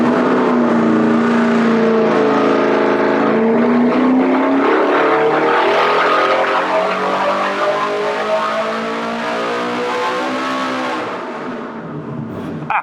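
Engine running on a dyno filled with 10 quarts of oil, a loud sustained roar whose pitch climbs steadily through a full pull before easing off near the end.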